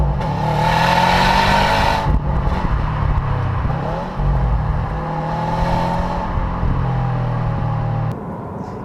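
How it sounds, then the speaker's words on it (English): A 2015 Subaru WRX STI engine revs hard and accelerates through several gear changes, loud and close, with rising pitch sweeps and brief dips between shifts. "Today we're with the 2015 Subaru WRX STI, and well, it goes something like this."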